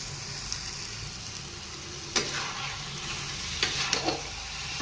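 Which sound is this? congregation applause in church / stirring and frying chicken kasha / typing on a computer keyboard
stirring and frying chicken kasha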